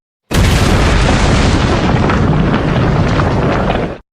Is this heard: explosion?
yes